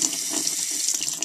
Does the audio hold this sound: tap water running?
yes